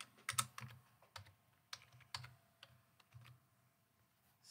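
Quiet, uneven keystrokes on a computer keyboard, some in short bursts with brief pauses, while text is edited in a Canva design.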